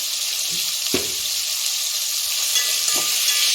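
Sprouted legumes with salt for a curry fry loudly in a pan, a constant dense sizzle with a couple of brief stirring scrapes, close and alone without talk.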